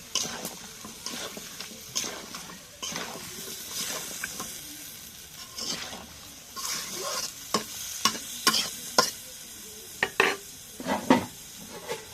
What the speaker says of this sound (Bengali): এখন মশলাটা কষানো